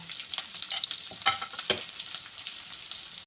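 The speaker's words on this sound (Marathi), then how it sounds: "हा कांदा आपल्याला या मसाल्यामध्ये चांगला परतून घ्यायचा आहे" Onions fry in a spice masala while being stirred for a mixed vegetable dish, giving a bright crackling sizzle with repeated scraping strokes of a spatula, loudest in the middle and then settling before stopping abruptly, close by, with no voices.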